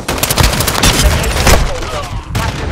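Loud, dense automatic gunfire in Call of Duty: Modern Warfare II multiplayer, rapid overlapping shots and bursts with booming impacts, close and continuous throughout, with some in-game voices underneath.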